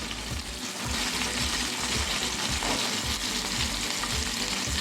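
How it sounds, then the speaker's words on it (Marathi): Prawns fry in a pan with a loud, dense, continuous sizzle and crackle, close up and steady throughout with no talk. "आणि हे फ्राय करून घ्यायचं आहे"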